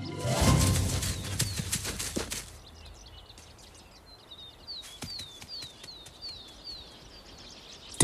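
Repeated short, sharp alarm calls from nesting birds in a quick series, moderately near, after an opening stretch of rustling and flapping noise.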